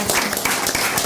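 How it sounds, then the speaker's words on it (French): A studio audience at a French talk show applauds steadily, with dense, even clapping that holds at a constant level throughout. "Je vous applaudis encore bien fort."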